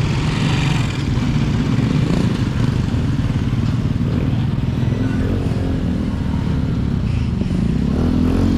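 A motorcycle runs close on the right of a car in traffic, its steady engine drone loud and continuous throughout, mixed with the low rumble of the car's own engine.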